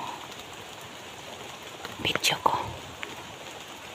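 Steady rain falls outdoors as a continuous soft hiss, while a person speaks briefly and quietly partway through.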